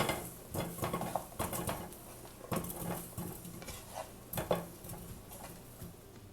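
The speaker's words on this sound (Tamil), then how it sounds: "இந்த கருணக்கிழங்கை குக்கரில் சேர்த்துடலாம்." Peeled, chopped pieces of elephant foot yam drop into a metal pressure cooker in a home kitchen, making a string of close, uneven clattering knocks and scrapes with short pauses between bursts.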